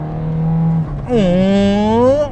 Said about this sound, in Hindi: भाई साहब इंजन तो शोर तो काफी मचाता है